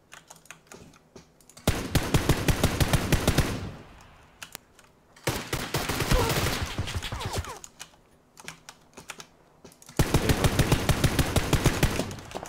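Rapid gunfire bursts from a PlayerUnknown's Battlegrounds match come in three dense, loud volleys separated by short pauses, with no talking over them.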